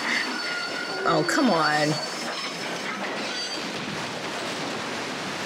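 Train in the video game Red Dead Redemption screeches with squealing wheels as it brakes hard, a loud rising metallic squeal near the start giving way to steady rumbling rail noise; someone speaks briefly over it.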